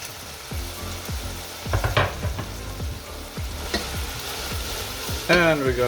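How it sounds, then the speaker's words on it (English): Cabbage hits a pan of half-cooked pork and onions, crackling and sizzling loudly with a run of rhythmic scraping strokes as it gets stirred and tossed. "I'm gonna put the cabbage in."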